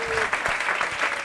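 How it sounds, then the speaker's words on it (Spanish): A comedy show audience breaks into brisk, dense clapping, loud and continuous for a moment, with a voice briefly audible beneath it. "fuerte aplauso para ella"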